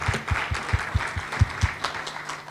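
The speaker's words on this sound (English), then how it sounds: "Just one more round of applause for our presenters." Audience applause for presenters at an academic session, steady clapping from a modest crowd with a few strong, rhythmic claps standing out close by.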